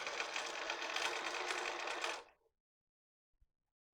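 A sewing machine stitches a long folded fabric strip for a face mask, running in a steady close whir for about two seconds before stopping abruptly, followed by quiet.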